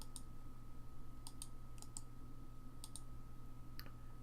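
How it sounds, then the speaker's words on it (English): Computer mouse button being right-clicked, a handful of sharp, faint clicks spaced irregularly over a low, constant hum, with no voices. "by right-clicking my mouse button"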